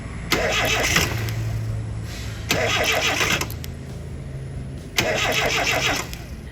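Car engine cranking, with the starter motor spinning at normal speed while the engine fails to start: three separate loud cranking bursts of about a second each, with a low steady hum in the gaps.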